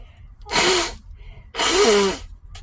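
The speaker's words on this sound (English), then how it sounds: "Y'all have to be aggressive when blowing your nose." Two forceful, wet nose-blowing bursts in quick succession, each about half a second of loud rushing air with a nasal honk, separated by a short quiet pause; no talking.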